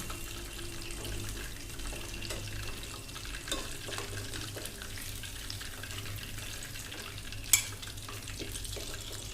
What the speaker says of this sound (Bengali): পাশে পাশে উঠাইয়া ভেজে নেব চিকেনগুলো